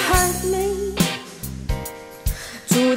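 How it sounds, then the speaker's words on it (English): Sung vocal phrases through a plate reverb, with a bright, lingering reverb tail that rings on between lines, close and clear with no other instruments. "On vocals, I'm using the new plate algorithm"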